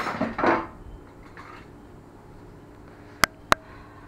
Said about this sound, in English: Oh, let me get another spoon.